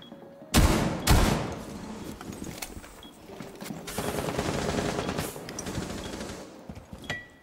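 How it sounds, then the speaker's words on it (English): Bursts of gunfire in the video game Rainbow Six Siege on Xbox: two sharp, loud close shots followed by a sustained rattling exchange of fire and more scattered shots, with no talk. "where did I just get shot from?"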